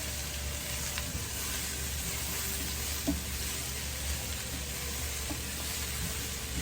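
A steak stir fry sizzles steadily in the pan while sauce is stirred in, with a constant hiss broken by a few faint clinks of the utensil.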